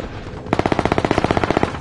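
Machine gun fire in the video game The Continuum starts abruptly as a loud, close, evenly paced stream of rapid shots, each report distinct, continuing without any voices over it.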